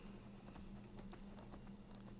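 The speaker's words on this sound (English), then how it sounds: "I got a horse that wants to just climb straight up the side of a cliff" Horse hooves in the video game Skyrim clip-clop in a quick, even rhythm, faint and low under a steady background hum, with no speech.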